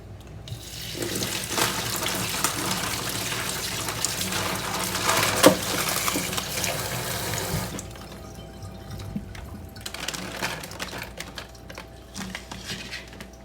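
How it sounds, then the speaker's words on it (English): Asparagus spears rinsed under a running kitchen tap, a steady close hiss of water splashing into the sink for about eight seconds, then quieter drips and faint handling sounds. "I'm just going to give these a quick little rinse."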